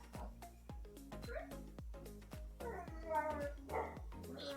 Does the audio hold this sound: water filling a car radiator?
no